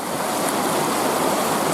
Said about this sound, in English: But this water here is flowing pretty darn fast.